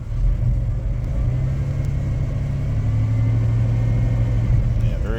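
The engine of a 1993 Chevrolet S10 Blazer runs close by with a steady, throaty rumble and a slight rise in pitch as it is given gas, holding at a loud, even level throughout.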